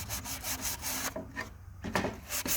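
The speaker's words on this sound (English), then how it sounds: "It'll lighten up any parts you want lightened back up if you sand a little harder." Sandpaper rubs over wood-burned wood in quick, repeated back-and-forth scrubbing strokes, close and fairly loud, with one brief pause midway.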